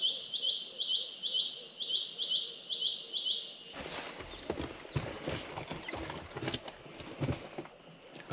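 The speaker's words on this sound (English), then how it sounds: "Hike's an absolute bird lover's dream. Listen to the sounds." Birds sing along a forest hiking trail in Palau: a rapid, repeated high chirping phrase at first, then a denser mix of calls and rustling nearby, moderately loud with no talking.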